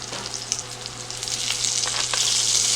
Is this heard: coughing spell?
no